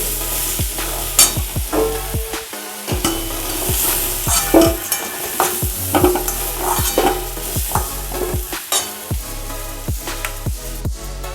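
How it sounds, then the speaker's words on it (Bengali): Pumpkin pieces sizzle in oil in a pan over a medium gas flame while a utensil repeatedly scrapes and stirs, rhythmic knocks over a continuous frying hiss, close up, no speech. "আমি গ্যাসের ফ্লেমটাকে মিডিয়াম রেখে কুমড়োটা ভেজে নেব"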